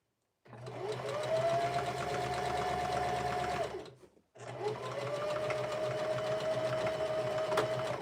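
A sewing machine stitching over thick fabric during a back stitch runs in two steady whirring bursts separated by a brief pause, close and fairly loud.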